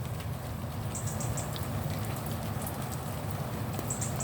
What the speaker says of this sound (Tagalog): Sana mamaya tumigil na ang ulan.